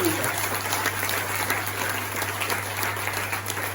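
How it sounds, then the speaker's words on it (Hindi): An audience at a Forever Living company event claps lightly, a soft even patter of many hands that holds steady at moderate distance with a low hum underneath. "फॉरएवर की मैनेजमेंट के इतनी हल्की तालियों में मत लीजिए सर"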